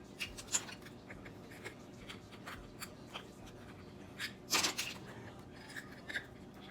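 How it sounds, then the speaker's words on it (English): Quiet scraping and snipping of scissors being worked around to widen a hole in a soap dispenser, with soft irregular rubs and one louder cluster of clicks. "I'm going to bend it around with my scissors until I get the hole the size that I need for my soap dispenser"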